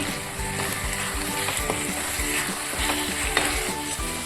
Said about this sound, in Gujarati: હવે આપણે આ સૂકી ડુંગળી નાખી છે ને તેની જે કસાશ જતી રહે ને ત્યાં સુધી આપણે એને થવા દેવાની છે